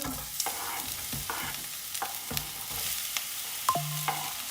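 Onions frying in a little oil hiss in a steady, continuous sizzle, with a spoon scraping and tapping the pan at intervals, close up and with no one speaking.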